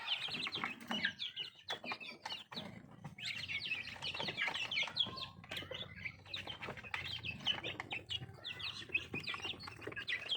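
Bangkok fighting chickens on a small farm keep up dense, overlapping clucks and chirps with bursts of wing flapping, close and steady throughout, with no voices.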